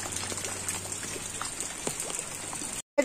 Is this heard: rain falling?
yes